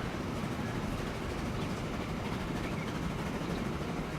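A train in Transport Fever, heard from a first-person onboard view, rumbles steadily with a continuous low roll and faint clatter from start to finish, no voices.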